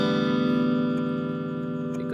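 A sustained electric guitar chord rings through a Boss overdrive pedal with reverb added, the steady tone decaying slowly and evenly.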